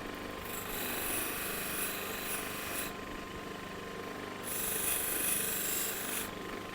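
Steel scissors are scrubbed against a Scotch-Brite scouring pad in quick back-and-forth strokes, producing a faint, gritty rasping texture in bursts separated by short pauses.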